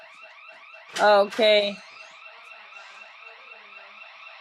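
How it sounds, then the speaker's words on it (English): An alarm going off indoors, a steady, continuous repeating warble that runs throughout at moderate loudness, briefly covered by a single spoken word. "We got an alarm."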